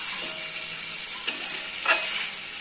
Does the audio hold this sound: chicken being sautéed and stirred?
yes